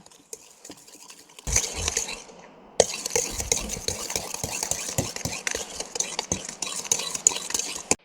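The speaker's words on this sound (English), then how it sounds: "Next, we're gonna add 2 large eggs. I'm gonna mix that up." Eggs being mixed into banana bread batter in a bowl, a steady stir with scraping and clinks from about a second and a half in, continuing to the end, close and moderately loud with no talk.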